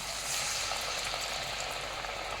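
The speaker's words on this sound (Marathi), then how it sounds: "आता मी कढईमध्ये तेल घेतलेलं आहे आणि यामध्ये मी आता वडे तेलामध्ये टाकत आहे" Green chickpea vadas sizzle after being dropped into hot oil in a kadhai, a dense, even crackling hiss heard up close and alone.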